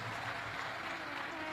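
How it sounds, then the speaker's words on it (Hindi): A large audience at a Shiv Mahapuran katha, a Hindu religious gathering in Latur, Maharashtra, applauds in steady, dense clapping that fills the whole short stretch without a break. "एक बार जोरदार ताली बजाकर उनके लिए साथ होगा।"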